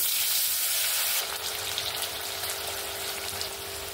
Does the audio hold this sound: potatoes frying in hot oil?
yes